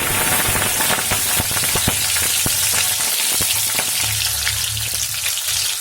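Cloves and green chili frying in oil, a loud, continuous crackling sizzle with sharp spitting pops scattered throughout, close and alone without any voice.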